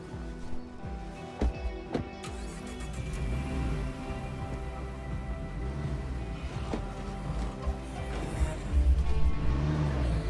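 A car engine drones and revs continuously in the zombie survival video game State of Decay 2, a loud low rumble rising in intensity toward the end with scattered thuds and knocks, and no voices.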